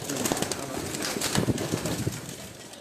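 Lakha breed pigeons coo softly on a rooftop, a continuous murmur of overlapping calls with a few brief flutters, moderately close and with no talk.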